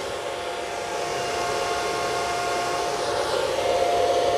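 Antminer S9 ASIC bitcoin miner fans running as the machine hashes, a loud steady high-speed whoosh with a faint whine that swells slightly toward the end.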